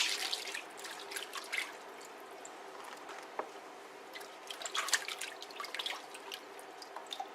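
Banana leaves rinsed under running water, with soft, uneven dripping and splashing that comes and goes, faint and close, with no talk.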